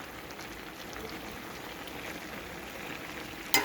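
Green beans sizzle and fry in a pot without any added water, a steady, even crackling hiss that stays close and continuous throughout.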